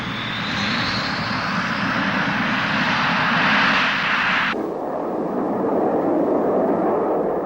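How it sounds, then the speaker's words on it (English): A Soviet military jet's R-29-300 engine roars loud and continuous, heading out on a training mission at dusk, with the tone abruptly changing partway through as the roar dulls. "The R-29-300 engine gives tremendous performance at low level"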